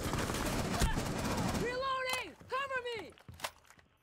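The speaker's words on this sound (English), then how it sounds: "I'm gonna follow the sounds of the Uzi 9mm." Rapid Uzi 9mm gunfire in a video game rattles loudly for about a second and a half, then a voice speaks over fainter background noise with a few scattered clicks.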